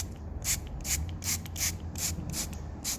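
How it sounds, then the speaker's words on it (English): Seven quick, hissing spritzes from a spray bottle of graphene ceramic coating onto a Toyota FJ Cruiser come at a steady rhythm, close and fairly quiet. "I'm gonna just take the spray bottle and do the same thing here."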